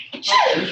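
A single sharp sneeze, brief and close, with a short breathy intake before the burst.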